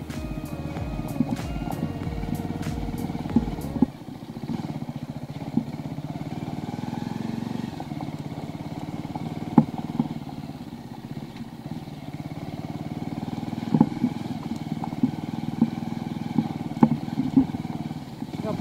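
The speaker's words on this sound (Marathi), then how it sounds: "पायवाटांमधून आम्ही बाईक चालवतो आहे" A motorbike rides along narrow footpaths toward Punli beach, its engine droning steadily up close, with a rough, higher-revving start that settles into a lower hum and scattered bumps and clatters.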